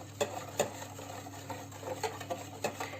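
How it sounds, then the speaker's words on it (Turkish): Spoon stirring sugar and water syrup in a pot for lömbedek dessert, unboiled, with soft scraping and a few sharp clinks against the pot at an irregular pace, close and alone. "Hiçbir şekilde kaynatmadan sadece şekerlerim eriyene kadar karıştıracağım."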